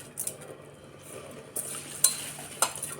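Old Kolam rice being stirred in a metal pot for palak-potato khichdi, with a few soft scraping sweeps and several sharp clinks of a spoon against the rim, close and quiet, without any talk.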